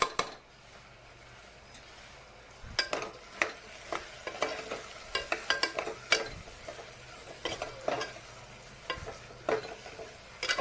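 Spices stirred into vegetables frying in oil for a veg pulao, with a soft background sizzle under frequent sharp scrapes and clinks of a spoon against the pan, fairly quiet overall.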